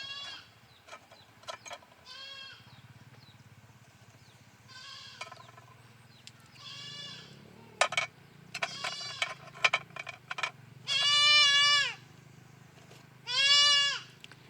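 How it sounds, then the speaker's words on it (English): A young goat kid bleating as it searches for its mother, with short scattered cries in the first half and two long, loud, wavering bleats near the end, against faint background noise and clicks. "So basically you're hearing a little kid, a little goat kid, searching for the mother."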